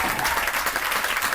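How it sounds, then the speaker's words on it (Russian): A brief burst of dense audience applause, many hands clapping at once at a steady level for just over a second, with no voices over it. "Аплодисменты!"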